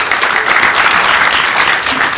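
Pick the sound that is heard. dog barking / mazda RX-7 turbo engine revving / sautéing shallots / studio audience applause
studio audience applause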